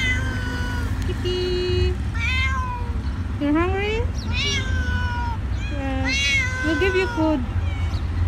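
A cat meows repeatedly, several rising and falling cries close by, with a person's voice mixed in between over a low background rumble.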